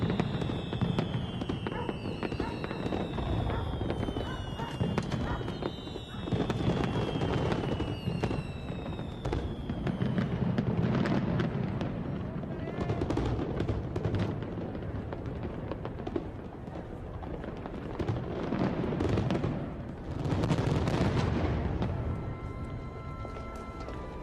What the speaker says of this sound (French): tout Paris peut admirer un feu d'artifice tiré depuis le 2e étage